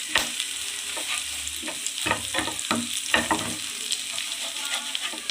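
Garlic and curry leaves fry in a hot pan with steady sizzling while a spoon stirs and scrapes in irregular clinks, close and continuous, for a garlic chilli chicken dish.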